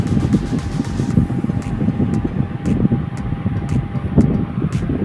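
A DIY power-inverter-powered electric fan on its highest setting roars steadily, a dense continuous whoosh with faint rhythmic ticking running through it.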